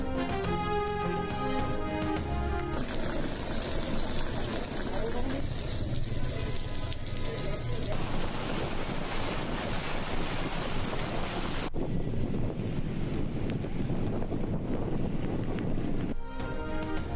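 Heavy rain from a cloudburst over Chakwal city in Pakistan makes a dense, loud, continuous hiss and roar that shifts across several abrupt cuts between scenes, with no clear voices.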